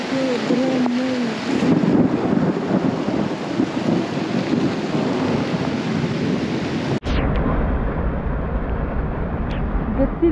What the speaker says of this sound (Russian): Шли мы, началась сильная гроза.